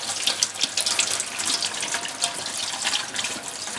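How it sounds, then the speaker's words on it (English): Running water rinsing a Honda S2000 exhaust tip, a steady splashing hiss from a tap with small fluctuating spatters, close and alone for a few seconds. "I'll rinse it down."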